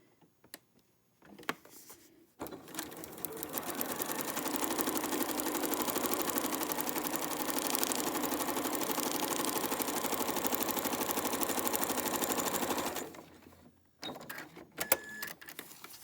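A sewing machine stitches a seam on a foundation paper pieced quilt block, a steady whirring hum running about ten seconds and then stopping, with a few handling clicks before and after, no talking.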